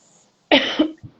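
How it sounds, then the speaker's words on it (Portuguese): A single sharp cough up close, with a short second cough following, in an otherwise quiet room. "Ai, desculpa, é que eu tô com tosse mesmo."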